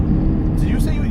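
Hyundai Genesis Coupe 3.8L V6 with standard exhaust, a low engine drone heard from inside the car beneath people talking.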